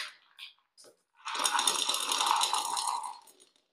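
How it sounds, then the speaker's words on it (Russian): Expanded clay pellets poured around an orchid in a pot give a few small clicks, then a continuous dry rattling cascade for about two seconds before stopping. "И все пространство хорошо просыпаю гранулами вот этими шариками своими."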